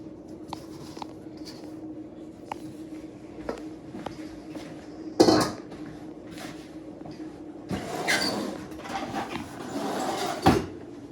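A kitchen drawer is pulled open and rummaged for a spatula while breadstick dough is being prepared: light knocks and clacks, then a sharp rattle and a longer clattering stretch of utensils shifting, near and without talk.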